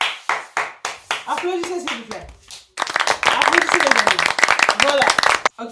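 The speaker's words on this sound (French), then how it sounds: "applaudissez s'il vous plaît. Applaudissez les amis." Clapping during a home room makeover while furniture is being assembled, sharp uneven hand claps that begin sparse, then thicken into faster clapping mixed with excited voices and chatter.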